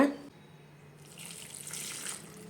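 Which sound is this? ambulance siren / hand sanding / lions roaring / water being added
water being added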